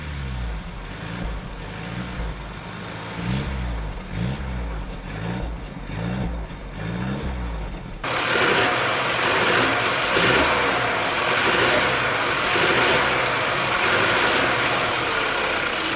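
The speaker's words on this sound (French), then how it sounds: "Le moteur 4 cylindres turbo de 2 litres" A Mercedes two-litre four-cylinder turbo engine idles with a low rhythmic throb, then abruptly gets louder and brighter as it revs steadily for several seconds.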